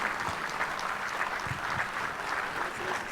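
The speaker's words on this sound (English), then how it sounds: "More applause" Applause at a communication and digital economy council general meeting: a dense roomful of clapping fills the space continuously at moderate loudness, with no speech over it.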